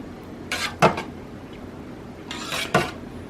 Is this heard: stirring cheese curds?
yes